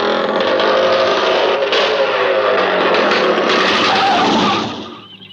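A motorcycle with no exhaust pipe revs loudly and close by, its raw engine roar held for several seconds before it speeds off and fades quickly at the end.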